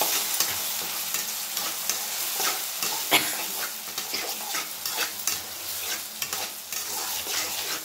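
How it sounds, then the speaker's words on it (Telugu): Boiled toor dal with drumstick leaves frying in a pan, a continuous dense sizzle with frequent scraping stirs of a spoon, close and steady with no voices. "ఇప్పుడు ఉడికించి పెట్టుకున్న కందివేళ, ఇప్పుడు బాగా ఫ్రై కావాలి."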